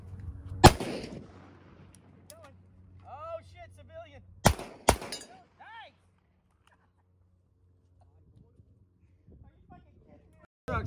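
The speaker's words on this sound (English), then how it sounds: "Shoot the civilian." Pistol gunshots ring out during a shooting drill, with three loud, sharp reports spread over a few seconds while people talk nearby between them.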